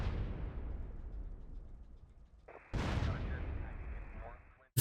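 A vehicle blowing up in GTA San Andreas, a loud explosion decaying into a long rumbling tail, followed by a second abrupt blast and a sharp final hit, with someone talking alongside.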